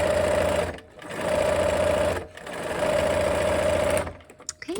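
A sewing machine stitches a quilt seam in steady, loud whirring runs, stopping briefly twice between bursts, then halting with a few faint clicks at the end.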